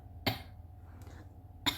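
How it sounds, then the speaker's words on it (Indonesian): Two short, dry coughs a little over a second apart, close and fairly quiet, with a faint breath between them in an otherwise quiet room. "Oke, batuk dulu ya."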